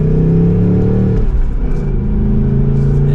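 A 2024 Ford Mustang GT Premium with a manual gearbox pulls away from a start, its engine rumbling loud and close with a deep, steady drone that shifts pitch partway through.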